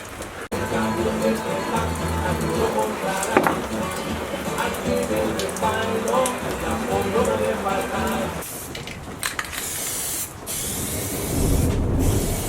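Heavy rain pours steadily, drumming on surfaces with a dense hiss, while a voice talks over it and a few louder bursts break through.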